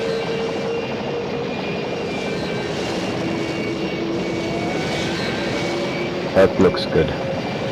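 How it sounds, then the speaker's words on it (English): An Airwolf helicopter in the game Arma 3 gives a steady, loud turbine scream with a constant high whine. It runs unbroken throughout, and a voice speaks briefly near the end. "there's quite a bit of that scream of the turbos happening"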